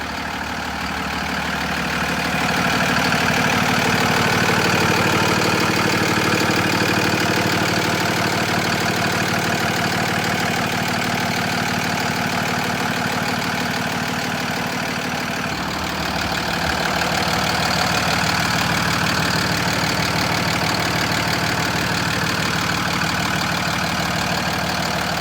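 A Cummins 6.7 liter inline-six diesel in a 2019 Freightliner M2 106 box truck idling steadily, a loud continuous rumble with an even clatter that holds for the whole stretch with no talk.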